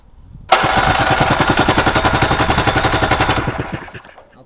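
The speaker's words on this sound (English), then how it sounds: "We're going to do a compression test on it." A Polaris Indy 500 snowmobile engine cranks over on its electric starter during a compression test, a loud rapid rhythmic chugging that starts abruptly and runs steadily for about three seconds before winding down.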